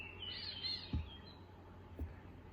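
Small birds chirp and tweet outdoors in a steady, fairly faint chorus, with brief high calls drifting over a low constant background hum and no talking.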